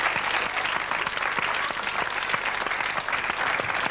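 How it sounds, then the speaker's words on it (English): A studio audience at a TV talk show claps continuously in a dense, steady wash of applause that holds at an even level for the whole stretch, with no voices on top. "Let's have a bit of applause for Matthew."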